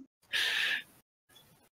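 A human voice imitates the Harry Potter apparate noise by mouth: one short, breathy whooshing burst, quiet and close, followed by a fainter trailing puff.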